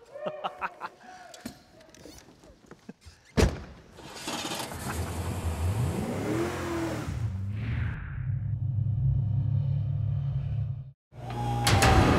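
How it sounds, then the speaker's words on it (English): The real Mach 5, the Speed Racer car, is driven hard: a loud engine rises and revs for several seconds, then settles into a steady running drone, with clatter and noise around it. "we worked out a little deal with the caretaker of Mach 5 so we could run it through the paces"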